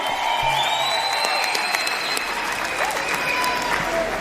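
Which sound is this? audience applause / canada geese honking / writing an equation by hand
audience applause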